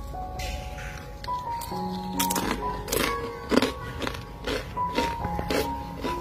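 Crisp crunching bites into a peanut peyek cracker, a series of sharp cracks and chewing crunches close up, spaced irregularly over faint background sounds.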